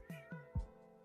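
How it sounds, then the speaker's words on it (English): A domestic cat meows in the background of an indoor podcast: two short, faint meows followed by a slightly louder, lower one, all heard alone with no speech. "That's my cat in the background,"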